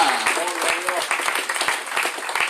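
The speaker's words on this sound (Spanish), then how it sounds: "Dele ese fuerte aplauso al Señor en esta hora" A church congregation applauds in quick, uneven claps, giving praise to the Lord during a sermon, moderately loud and continuous with a few voices mixed in.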